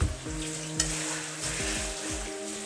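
Ginger garlic paste and salt frying in a hot pan, stirred with a spoon: steady close sizzle with repeated scraping strokes across the pan, no voices.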